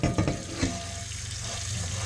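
Hot water runs and splashes over a rusted cast iron pan, a steady close rushing stream with a few clinks and knocks at the start.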